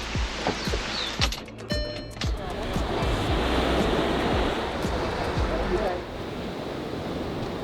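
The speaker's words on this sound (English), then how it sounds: "So we made it to Black Sand Beach." Ocean surf at Black Sand Beach on Hawaii's Road to Hana, with a steady wash of breaking waves and wind rumble throughout and a few brief handling knocks near the start.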